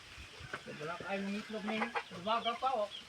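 Chickens cluck in short, pitched bursts close by, with some overlapping calls and a faint background murmur.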